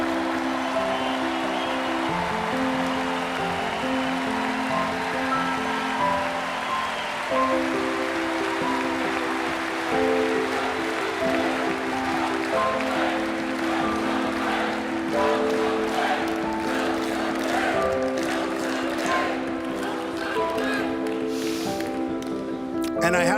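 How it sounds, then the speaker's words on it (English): Political rally crowd cheering and applauding in a large hall, a sustained roar of clapping and voices under amplified speech, with the applause building louder and more crackly toward the end. "it is so nice to hear you cheering for what I just said"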